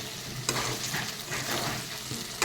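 Fish head and potatoes with turmeric, coriander-cumin powder and salt are stir-fried in a pan, a close, steady sizzle punctuated by two sharp scrapes of the stirring spoon.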